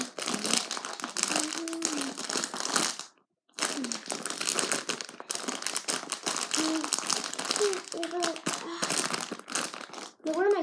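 Plastic packaging of a squishy toy being handled and pulled open, with near, continuous crinkling and crumpling in bursts, one short pause, and a person talking over it.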